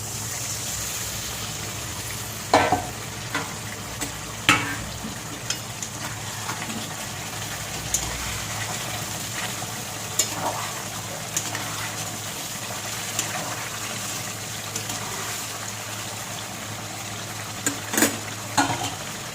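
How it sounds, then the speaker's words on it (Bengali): Water splashed into a pan of marinated chicken being cooked for biryani, giving a steady bubbling sizzle with a few brief louder clinks and stirs scattered throughout. No talking. "যেটার মধ্যে চিকেন মাখিয়ে রেখেছিলাম সেটার মধ্যে একটু জল দিয়ে দিচ্ছি"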